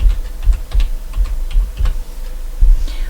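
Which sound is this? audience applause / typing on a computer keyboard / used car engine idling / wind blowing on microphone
typing on a computer keyboard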